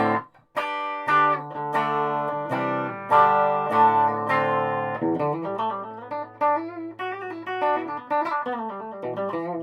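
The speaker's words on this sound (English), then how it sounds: "There's the clean sound bridge pickup." A clean electric guitar on the bridge pickup plays plucked chords and single notes, bright and twangy, ringing out close with no distortion.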